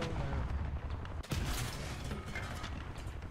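Tank cannon fire in War Thunder ground battle against a Panzer IV, a loud sharp blast around the middle of the clip over a dense rumbling backdrop of engine noise and distant gunfire.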